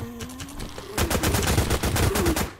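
Rapid automatic machine gun fire in a blocky Minecraft-style Call of Duty Zombies game, starting about a second in after a low hum and continuing as a dense, loud rattle of repeated shots through to the end.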